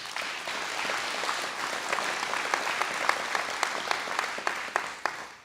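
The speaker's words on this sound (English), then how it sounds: "So if you want to give a round of applause" Audience applauding at a groundbreaking ceremony, steady clapping from a crowd throughout with sharper individual claps near the end, loud and close.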